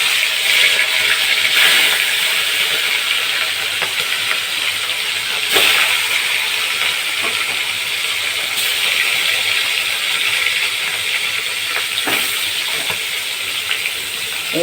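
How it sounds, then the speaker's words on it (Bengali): Katla fish heads frying in a pan, a loud, steady sizzling hiss that runs throughout with a few sharper crackles and pops breaking through. "এইভাবে সব কটা মুড়ো আমি ভেজে নেব"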